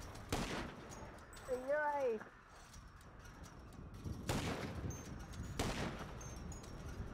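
A few sharp, distant bursts of gunfire from GTA 5 spaced several seconds apart, fairly faint, while someone talks in between.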